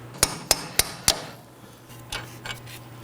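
A hammer strikes a center punch on the front strut and suspension of a 2018-2024 Chevrolet Equinox: four sharp metallic blows in quick succession, then a couple of softer knocks.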